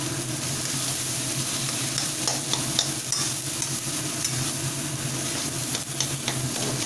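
Potato filling is stirred and mixed in a hot pan, a steady scraping, sizzling texture that runs continuously and fairly loud, with no voices.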